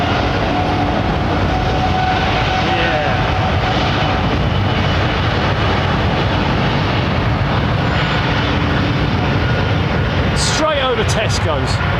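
An airliner departing London Heathrow retracts its flaps, a loud, steady roar of jet engines and airflow with a whining retraction sound. Near the end, a brief higher tone sweeps and pulses above the roar.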